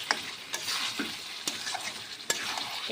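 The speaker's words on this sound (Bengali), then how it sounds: "এখন আমি দিয়ে দেবো আলুটা আলুটা দিয়ে দিলাম" Potatoes sizzle and fry in a pan of spices, a steady hiss broken by several sharp scraping stir strokes at irregular intervals, close and moderately quiet.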